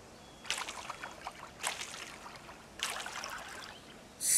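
A watering can pours onto crops in the farming game Coral Island, giving three short splashy water bursts with pauses between them and no talk.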